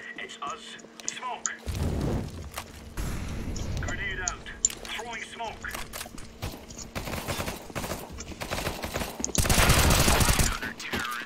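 Rapid video game gunfire from a P90 rush, with bursts of automatic shots and sharp cracks over a busy game soundscape, while players talk throughout.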